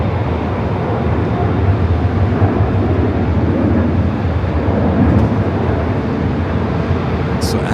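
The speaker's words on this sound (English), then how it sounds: "United Dreamliner taking off there on the south." A United Dreamliner airliner takes off from the south runway, a loud, continuous broadband jet roar that holds steady throughout with no break.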